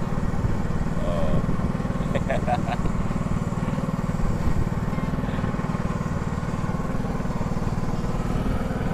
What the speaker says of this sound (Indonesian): Soalnya mesinnya lumayan berisik mesinnya.